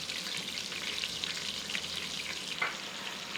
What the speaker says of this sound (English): just place them in the pan so that they sear well.